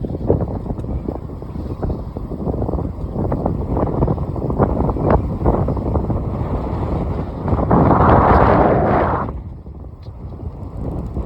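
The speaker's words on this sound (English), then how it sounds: "this wind has just been really brutal." Strong gusty wind buffets the microphone in a steady, loud roar while riding an e-bike, swelling into a harsher blast near the end before easing off.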